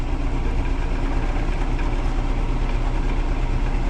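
A woodturning lathe running at increased speed, around 800 RPM, with a steady dense whir and low rumble that holds constant and loud throughout.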